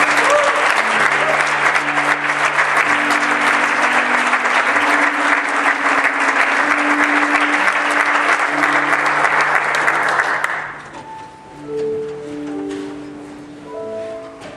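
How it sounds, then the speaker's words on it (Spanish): Church congregation applauding loudly during a worship service, dense steady clapping for about ten seconds over background music, then cutting off abruptly as the music continues alone. "Den un fuerte aplauso."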